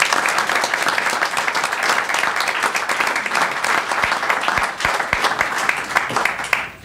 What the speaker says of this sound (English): Let us give the previous commission a round of applause to thank you for their last 4 years.